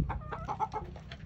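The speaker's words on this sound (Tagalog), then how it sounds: "Chickens." Chickens clucking close by in short, repeated bursts, with a low steady background rumble underneath.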